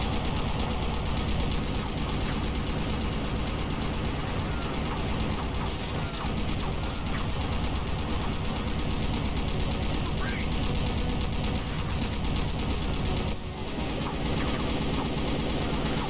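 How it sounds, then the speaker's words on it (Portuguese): Dense, continuous gunfire fills a Doom mod level, rapid machine-gun-like bursts layered over mechanical, engine-like game noise, loud and nearly unbroken while a voice talks over it. "Olha o cara atirando na parede, que animal."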